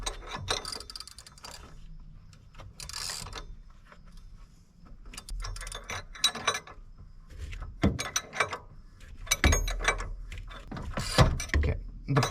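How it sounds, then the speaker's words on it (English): A ratchet tightens a nut to press a pulley onto a power steering pump on a 2009 Suburban, giving bursts of close mechanical clicking with pauses between strokes. "I'm holding the pulley and I'm tightening this nut to push the pulley onto it"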